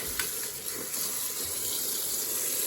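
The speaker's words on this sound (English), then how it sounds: "So filling your tap up so that way your mat is totally covered" Water gushes from a tap to fill a tub for soaking a yoga mat, a steady close rushing flow without pause.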